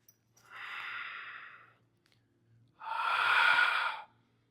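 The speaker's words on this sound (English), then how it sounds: "even exaggerate the breathing" Two long, loud exaggerated breaths, a slow exhale and then a stronger one, taken during a power yoga class for hips and legs, each separated by a brief quiet pause.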